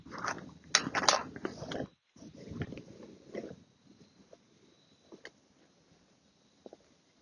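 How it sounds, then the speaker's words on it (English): Close, crunchy chewing of food fills the first few seconds in dense bursts, then fades to sparse, quieter mouth clicks and faint chews against near silence. "Sorry for all people who hate chewing."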